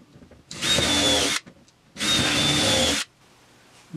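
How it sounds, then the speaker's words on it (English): A power drill bores and countersinks screw holes in a wooden board, two loud sustained whirring bursts of about a second each separated by a short pause, close up with no talking. "now that I have those holes drilled and countersunk"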